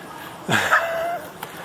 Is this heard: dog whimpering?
yes